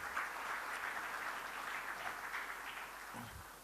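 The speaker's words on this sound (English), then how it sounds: "big round of applause for Anil and Vivek." Applause at a charity awards night for honorees Anil and Vivek: a steady, moderately faint wash of clapping from a crowd, sustained throughout with no voices.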